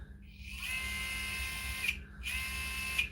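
A DeWalt impact driver motor under repair spins freely with no anvil attached, a steady high whine, stopping briefly before starting up again for a second run.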